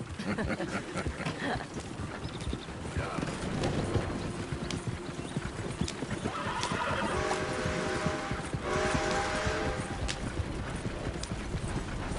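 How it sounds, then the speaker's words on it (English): Horse hooves clip-clop steadily in Red Dead Redemption 2 while a horse whinnies partway through, with faint voices and background sounds underneath. "Smell those sheep."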